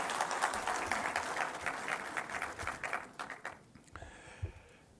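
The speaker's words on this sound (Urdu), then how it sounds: "تالیاں بجا دیں جی" An audience applauds at a political speech, a loud burst of clapping that thins out and fades into scattered claps.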